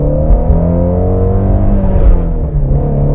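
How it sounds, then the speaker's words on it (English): The flat-plane crank V8 of a 2019 Ford Mustang Shelby GT350 runs close and loud with a deep, steady rumble and a layered harmonic drone that holds throughout, with no talk over it. "is that flat plane crank V8 engine and that sound that it puts out"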